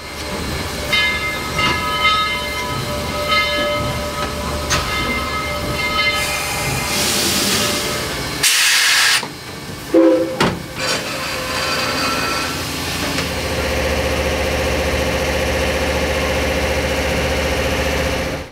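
Southern Railway steam locomotive No. 4501 rolls into a station at Tennessee Valley Railroad Museum, a loud, steady rumble of engine and rail cars with hissing bursts and a brief horn-like blast midway, no talk.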